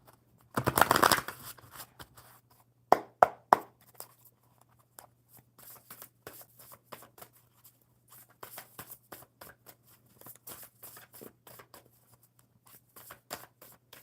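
A burst of riffled cards, then a few sharp snaps followed by a long series of soft, quick card flicks and taps as a deck is shuffled up close.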